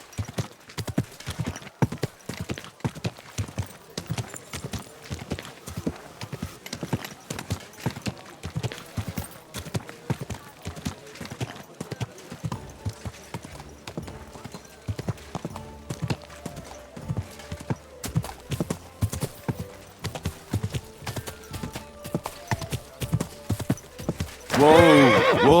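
Horse in the video game Kingdom Come: Deliverance 2, with a long run of rhythmic hoof clip-clops, some neighing mixed in, and louder activity near the end.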